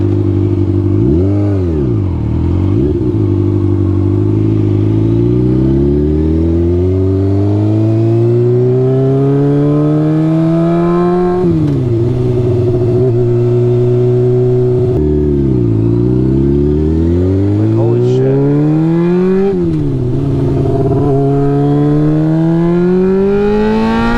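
A Honda F4i sport motorcycle engine revs and accelerates through rising gear pulls, with the pitch sweeping up, dropping at shifts and climbing again, loud and close throughout with no speech.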